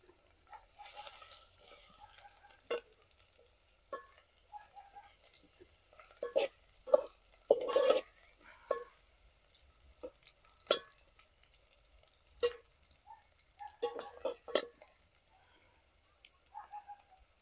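Two chopped onions stirred in a metal pot on a wood-fired clay stove while mutton curry is cooked, giving faint, sporadic scraping clicks and taps in an otherwise quiet kitchen.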